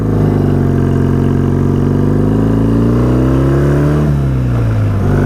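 A BSA motorcycle with belt-drive primary and a Suzuki rear sprocket revs hard in a tall first gear, a loud close engine note that climbs steadily, then dips briefly near the end before picking up again.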